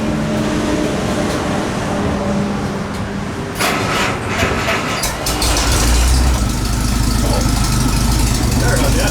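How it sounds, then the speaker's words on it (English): A classic car's engine cranks and catches about halfway through, then settles into a loud, deep, steady idle as it warms up, recorded close in a noisy shop-like space. "Start her up and get a little warm up."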